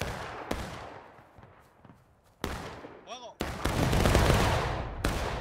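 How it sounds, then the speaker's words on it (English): Musket volleys from the War of Rights video game ring out as several sharp, loud cracks, some in near-simultaneous bursts, over a rumbling battlefield wash and scattered distant shots. "Nice little volley there."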